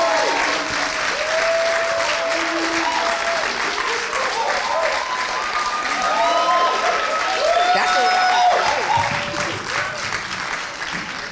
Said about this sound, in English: So just one more round of applause for them.